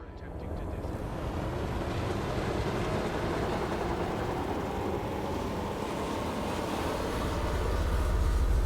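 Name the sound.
Eagle spacecraft engines running, from a video game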